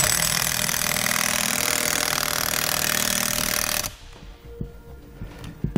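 Impact wrench tightening nuts through a long extension socket on the rear suspension of a 2018 Ford F-53, a loud sustained rattling burst that cuts off abruptly, followed by quieter clinks and small knocks.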